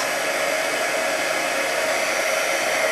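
Heat gun blowing hot air over coats of paint on tiles, a steady, close, loud whoosh held without pause and no talking.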